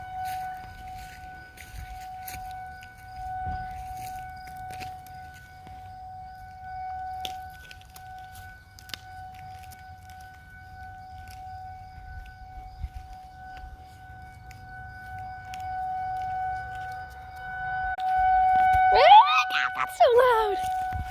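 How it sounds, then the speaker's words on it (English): Outdoor forest fire and tornado siren under test holds a steady wailing tone for about twenty seconds, distant but clear, with quiet talking and a brief rising warble near the end. "They're testing the forest fire / tornado sirens right now."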